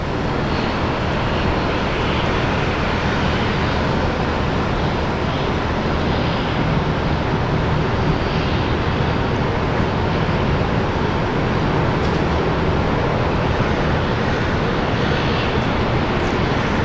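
A Korean Air airliner at Brisbane Airport runs up to full takeoff thrust, a loud, steady, broadband engine roar that continues unbroken throughout, with no voices.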